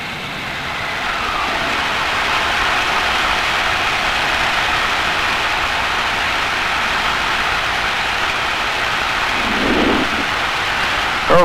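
A Cessna 172 engine running up to 1800 RPM during preflight checks, a loud, steady broadband roar that holds evenly throughout, heard from inside the cockpit with no talking.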